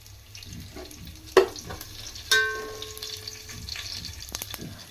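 Tempering spices for drumstick dal hit hot oil with sharp crackles, then a sustained sizzle, with a couple of distinct pops and clatters from a spoon or pan near the start and middle.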